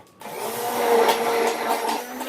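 Cold process peppermint soap batter with titanium dioxide being mixed by a stick blender, a steady whirring motor hum that starts abruptly and holds loud and close, with no talk.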